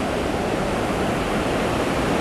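Fast-moving river water near a work site with a small ramp in the channel, heard as a steady, loud broadband rush with no pauses or voices.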